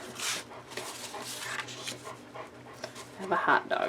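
A hot dog pants and whimpers, wanting to go outside, with soft breathy panting and brief whines fairly close while a person talks over it.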